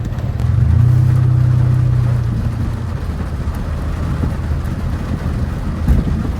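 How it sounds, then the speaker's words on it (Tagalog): Heavy rain pouring outdoors, a loud, steady broadband wash that continues without a break, with a low rumble in the first seconds that could be a passing vehicle. "Ang lakas ng ulan, tingnan nyo."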